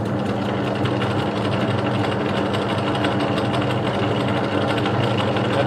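Vintage Dutch-made PDF metal lathe running on a worn, dodgy drive belt gives a steady, loud mechanical whir with a fast, even rattling pulse and no pauses.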